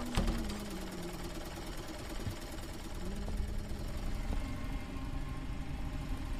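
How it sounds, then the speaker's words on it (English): A sewing machine in a horror video game runs at night with a steady fast mechanical rattle and hum that continues for several seconds, with a sharp click near the start and at moderate loudness. "She on her sewing machine."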